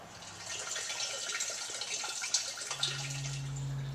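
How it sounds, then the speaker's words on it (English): Coolant pouring from a radiator petcock on an LS-type Vortec V8 into a drain bucket, a steady soft trickle and splashing of liquid with a few drips, close and quiet, no talking. "loosen the radiator petcock until it can let all the coolant drain out"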